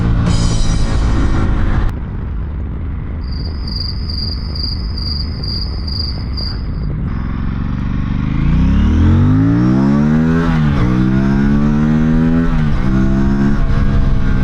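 A 2026 Aprilia Tuono 457 street motorcycle starts out idling under loud crickets and a high insect buzz, then accelerates hard through several rising gears, its intake sucking air audibly as the revving climbs, close and strong.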